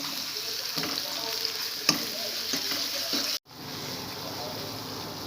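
Ginger garlic paste and coriander frying in hot oil for masala gobi, a steady sizzle with stirring scrapes and clanks of a spoon, cutting out sharply near the end before the sizzle fades back in more quietly.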